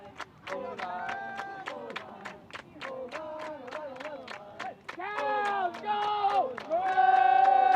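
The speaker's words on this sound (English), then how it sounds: "Minnesota cheering for their O-line." Spectators cheer and yell at an ultimate frisbee club championship game, Minnesota fans roaring for their offensive line; a loud, continuous crowd with whoops and shouts that swells louder toward the end, with no clear talk over it.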